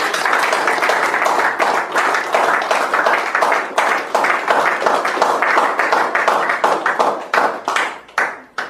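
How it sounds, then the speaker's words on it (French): Audience at a French-speaking initiation ceremony applauds steadily and loudly, a dense wash of many hands clapping that continues for several seconds before thinning out at the end. "Et donc, je vous prie d'applaudir."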